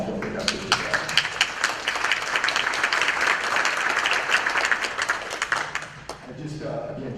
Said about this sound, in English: So we give a round of applause.